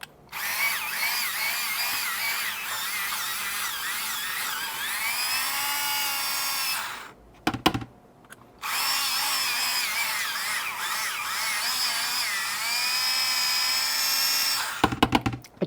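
A power drill countersinks a hole in a Mini4WD FM-A chassis tail plate, whining loudly and steadily in two long bursts with a brief stop and clatter between them, then ending with short stuttering pulses.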